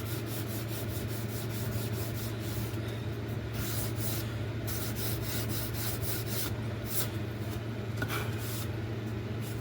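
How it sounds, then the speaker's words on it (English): Continuous rhythmic rasping as a sanding block rubs back and forth over wood on an RC glider build, steady strokes close up over a low mechanical hum. "So we'll just take the sanding block now"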